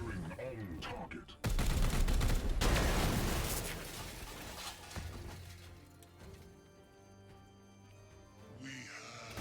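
Gunfire in the tactical game Warhammer 40,000 Chaos Gate – Daemonhunters: a sudden loud volley of shots and crashing impacts that fades into a ringing, resonant tail, with a voice speaking briefly.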